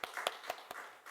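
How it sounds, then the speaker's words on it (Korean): Korean Full Gospel church congregation clapping during a Sunday service, a handful of sharp separate claps at an uneven pace, fairly faint and set in a quiet room. "우리 박수 한번 칩시다."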